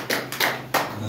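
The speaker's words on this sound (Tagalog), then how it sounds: "Palakpak sa ating mahal na Panginoon" Congregation in a church service clapping, three or four bursts of claps in an uneven rhythm, fairly close, with a low hum underneath.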